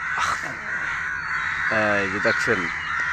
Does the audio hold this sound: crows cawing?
yes